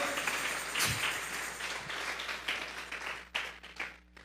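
A church congregation claps together during a service, a dense wash of applause with a few sharper individual claps standing out near the end, heard at moderate distance in a reverberant hall.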